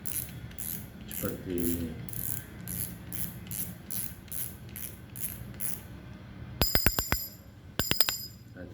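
A fishing reel clicker ratchet turns clockwise, making a rapid, regular run of light clicks. A few loud, sharp metallic snaps follow near the end, close up with a brief voice.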